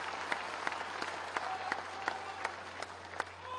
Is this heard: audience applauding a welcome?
yes